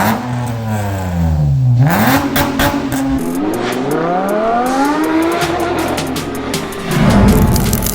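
A 2016 Honda Accord V6 fitted with a custom Vibrant exhaust and resonators revs hard. Engine pitch climbs and falls through several loud, close blips, with no talking.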